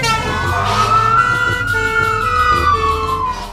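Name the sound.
ambulance siren in a children's cartoon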